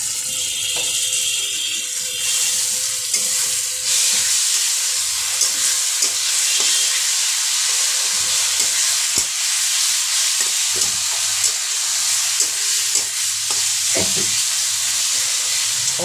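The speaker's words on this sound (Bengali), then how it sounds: "অল্প আঁচ দিয়ে আপনারা কিন্তু এটা ভাজবেন।" A spice paste of ginger, garlic and green chili fries in a pan with a steady, close sizzle, broken by repeated scraping and clinking of a spoon stirring it.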